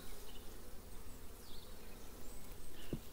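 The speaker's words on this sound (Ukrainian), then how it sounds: "бджола теж виходить" Honey bees buzz around a hive frame as it is inspected, a soft steady drone close by with a brief louder pass near the end.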